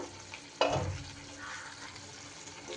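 Ridge gourd cooking in its own juices in a pan just uncovered on a gas stove, a soft steady sizzle and bubbling with one brief louder clatter near the start, quiet and close.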